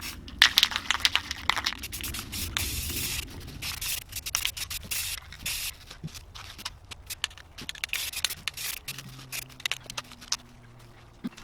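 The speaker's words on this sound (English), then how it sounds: "we're going to spray paint this, just making sure that we don't get any runs" Spray paint hissing onto a tumbler in repeated bursts, with rubbing and handling noises between passes, fairly close and of moderate loudness.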